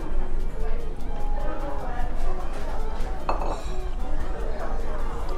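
A single bright clink of glasses touching in a toast during a spicy Sichuan meal, heard over busy restaurant clatter, dishes and chatter, with people talking nearby.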